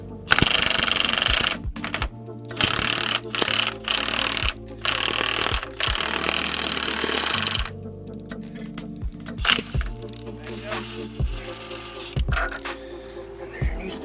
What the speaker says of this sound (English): Get your impact. You don't want to like just impact it on.